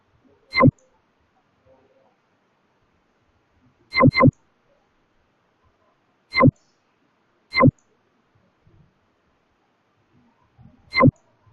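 Five sharp computer mouse clicks, single and one quick double, spaced irregularly in a quiet room while a form is submitted in a hospital discharge portal.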